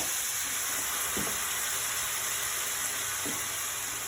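Ground beef browns with spices in a pan, giving a steady, close hissing sizzle, with a couple of soft stirring scrapes along the way.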